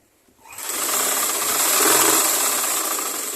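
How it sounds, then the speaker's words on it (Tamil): A sewing machine starts up and runs steadily while stitching a blouse sleeve, a close, continuous whirring buzz after a brief quiet start. "இப்போ 2 தையல் இதில் அடிச்சிடும்."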